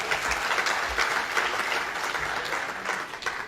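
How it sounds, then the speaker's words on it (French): An audience applauds the political party observers who served on the directorate: dense, steady clapping at moderate loudness for the whole stretch, with no voices over it. "J'aimerais également vous demander d'applaudir tous les observateurs des partis politiques qui ont participé au directoire."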